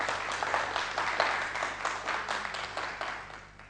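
An audience applauding in a television quiz show studio, a dense, sustained wash of many hands clapping that tapers slightly toward the end.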